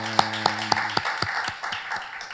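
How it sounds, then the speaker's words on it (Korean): A church congregation in Auckland claps in praise to God, with sharp, evenly spaced claps that are loud at first, over a held musical tone that fades out. The claps then continue more softly. "우리 살아계신 하나님께 영광의 박수 올려드리겠습니다"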